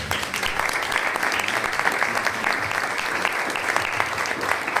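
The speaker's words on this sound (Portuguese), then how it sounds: "Um aplauso para ela." An audience at a book presentation applauds steadily and fairly loudly for several seconds, a dense, even wash of clapping with no voices on top.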